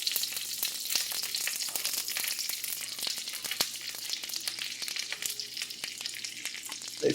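Chicken pieces sizzle loudly and steadily in a hot pan, a dense hiss of frying fat with scattered small pops and crackles throughout.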